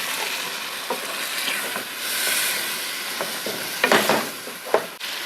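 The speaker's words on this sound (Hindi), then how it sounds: "मसाले को हमने अच्छी तरह से भून लिया है" Beef being fried and stirred in a spice masala for Eid beef pulao, a steady soft sizzle with intermittent scraping stir strokes and a couple of sharper clinks near the end.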